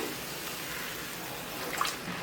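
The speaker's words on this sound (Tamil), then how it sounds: "இப்போ இதில் ரெண்டு டம்ளர் தண்ணி சேர்த்துக்கிறேன்" Water poured from a tumbler into a pan of spiced vegetable sabzi in a home kitchen, a steady splashing rush that runs continuously for a couple of seconds.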